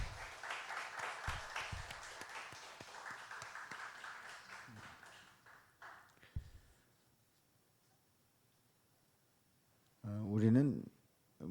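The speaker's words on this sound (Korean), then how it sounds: "박수로 격려합니다." A church congregation at a Friday late-night prayer service applauds, with dense clapping that starts fairly strong and gradually fades away. A quiet pause follows before a voice briefly speaks near the end.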